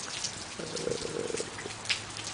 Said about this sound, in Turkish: Bizim gelmemizle beraber yağmur başladı.